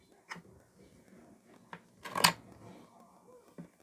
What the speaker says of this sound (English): So I'm going to just cut a piece off